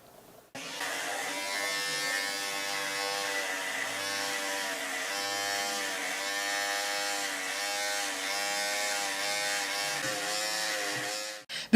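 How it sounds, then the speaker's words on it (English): A Wahl Cordless Detailer Li electric hair trimmer runs with a steady, close, even buzz from start to finish. No talk is heard over it. "These right here are the Wahl Cordless Detailer LIs right here, right?"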